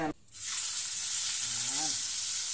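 Bacon drops into hot oil and starts a loud, steady frying hiss that carries on, with a brief voice speaking faintly beneath it.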